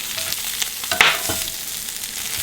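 Shrimp sizzle on a grill pan, their shells popping in sharp little cracks over a steady hiss of frying, close up with no voices.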